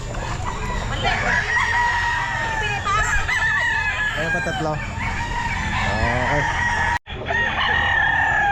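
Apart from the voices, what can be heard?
roosters crowing at a pet market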